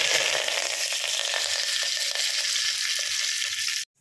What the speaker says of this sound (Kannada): ಎಣ್ಣೆ ಕಾದ್ಮೇಲೆ ಮೇಲೆ ಚೂರು ಸಾಸಿವೆ ಸಿಡಿದ್ಮೇಲೆ ಕರಿಬೇವು ಹಾಕೊತಾ ಇದ್ದೀನಿ